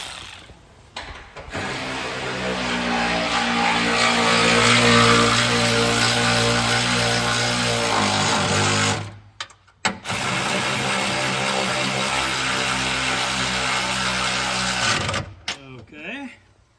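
A power tool whirs and ratchets loudly at close range as it tightens the top bolts on the shocks of a Spec Miata MX5 track car, running for several seconds, stopping briefly, then running again.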